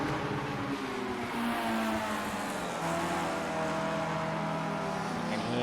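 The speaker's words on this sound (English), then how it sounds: "You can hear those cars hitting the rev limiter as they're using some engine braking." Race cars in Project CARS at Sportsland SUGO hitting the rev limiter under engine braking, a continuous buzzing engine drone with overlapping cars and no voices.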